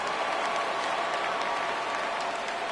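Stadium crowd in the MLB 17 The Show baseball video game rising during a 3-2 count, a steady, moderately distant wash of cheering and clapping with no clear voices standing out.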